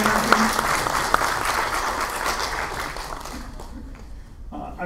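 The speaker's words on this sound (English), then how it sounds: "can we give these guys a round of applause?" An audience at a hockey analytics conference gives a round of applause for the organizers, a dense burst of clapping that thins and fades toward the end, leaving scattered claps and a voice.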